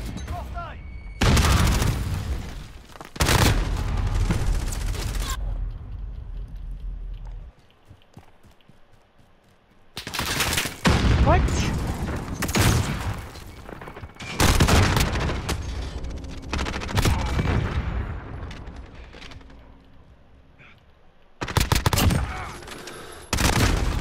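Gunfire in a shooter video game played in a bot lobby, loud bursts of rapid shots broken up by quieter stretches, with a player talking over parts of the action.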